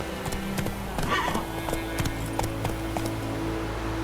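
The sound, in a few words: horse galloping (Roach) in The Witcher 3 video game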